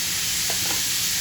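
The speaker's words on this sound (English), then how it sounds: "we'll cook it on high heat for about a minute, and then we'll lower the flame and let it brown." Salted chicken cooking in a pan over high heat gives a loud, dense, steady sizzle with a faint stir or two, close and continuous throughout with no talking.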